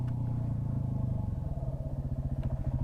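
A Yamaha WR250R dirt bike engine on a desert track sputters into a low, uneven rev, its pulsing rumble growing rougher and more staccato toward the end, heard up close with no talking.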